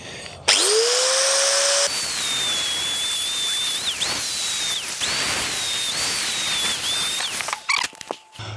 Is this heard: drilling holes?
yes